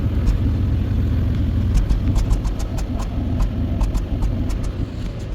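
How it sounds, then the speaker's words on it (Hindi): Idling 3.0 V6 engine of a 2012 Hyundai Azera with a cylinder misfire, a loud steady rumble close by, overlaid with a regular light ticking chatter repeating throughout. "तो इधर सिलेंडर मिस फायर आ रहा है और गाड़ी भी चिक चिक आवाज़ आता है।"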